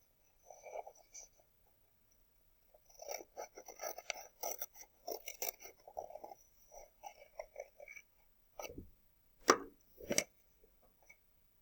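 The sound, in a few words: scissors cutting through folded paper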